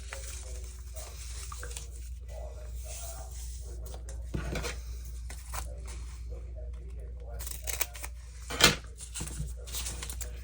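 Pieces for a handmade butterfly specimen book are cut by hand, two distinct crisp cuts standing out over steady low room noise and soft handling rustles.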